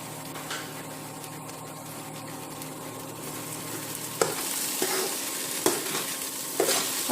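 Carrot halwa with fresh cream stir-frying in a pan, a steady sizzle throughout with periodic scraping strokes of the spoon growing louder in the second half, no voices.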